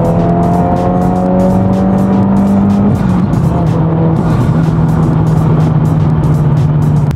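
A 2022+ Subaru WRX fitted with a dual titanium exhaust idles and rumbles loudly up close while backing up, with a steady low engine drone and a slight pitch shift partway through.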